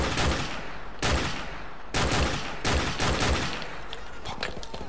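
Rapid gunfire from Call of Duty Modern Warfare Remastered crackles in repeated loud bursts at close range, the volleys coming in quick succession with brief gaps, and a faint voice underneath.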